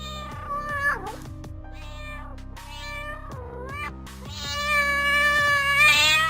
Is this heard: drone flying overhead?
no